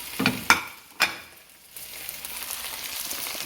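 Potatoes drop into a hot pot of Jamaican curry chicken with a couple of sharp splashy hits, then a steady close sizzle that settles into continuous frying.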